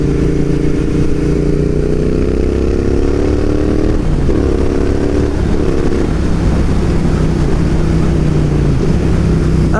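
Royal Enfield Interceptor 650 motorcycle on a spring ride, its engine droning steadily and loud throughout, with rising and falling revs and a gear change partway, plus wind rush.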